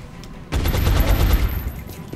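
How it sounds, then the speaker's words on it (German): A burst of gunfire in the strategy game XCOM: Enemy Within, a sudden loud blast that starts partway in and rumbles with rattling echoes before fading, with no voices. "wir werden mit Michael einen Schuss abgeben."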